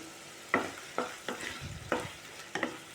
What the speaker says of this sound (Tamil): இப்போ ஓரளவுக்கு தக்காளி வந்து ஃப்ரை ஆயிடுச்சு